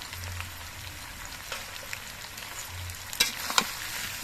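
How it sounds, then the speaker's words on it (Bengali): Winter vegetables for mixed khichuri being stirred in a hot pan with coriander and cumin powder, a close crackling sizzle broken by scraping spoon strokes and a couple of sharp utensil taps near the end. "এবার নেড়ে চেড়ে মিশিয়ে নেব ধনে গুঁড়ো আর জিরে গুঁড়ো"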